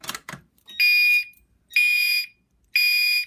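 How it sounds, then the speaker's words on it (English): A fire alarm panel on low volume sounds three repeated electronic tones, each about half a second long with short gaps between them, after a couple of brief thumps at the start. "It's not as loud right now because it's on low volume."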